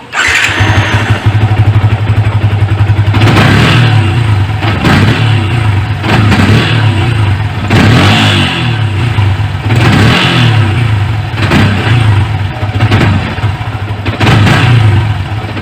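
An older Yamaha Vixion motorcycle that is hard to start and dies when throttled: its engine revs loudly and close in repeated surges, each blip fading as it falters, with a steady low idle rumble beneath.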